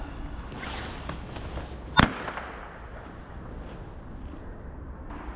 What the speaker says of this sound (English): he's lighting off some firecrackers.